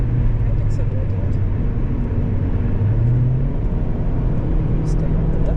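Volkswagen Golf 7.5 GTI accelerating on the Nürburgring Nordschleife during a Touristenfahrten lap: a loud, constant in-cabin engine drone climbs in pitch with road roar, while someone talks over it.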